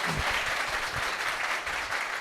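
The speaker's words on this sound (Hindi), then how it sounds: "तालियां बजाइए भाई।" An audience claps loudly and steadily indoors at a talk with a Hindi-medium civil services exam topper, the applause thick and continuous with a few heavier hand claps near the front.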